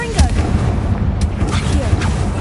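Explosive Bombarda and Confringo spell blasts in Hogwarts Legacy: loud, continuous, rumbling booms with a few sharper bursts over a dense low roar, close and heavy throughout.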